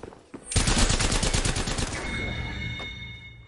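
Sniper rifle gunfire in the shooter game Apex Legends: a sudden loud blast that rolls straight into a dense rattling burst lasting over a second, then fades into ringing tones and a low rumble.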